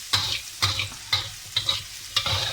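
Lobster masala fries in ghee with five evenly spaced rounds of stirring, each a sharp spoon scrape followed by a short burst of close, crackling sizzle.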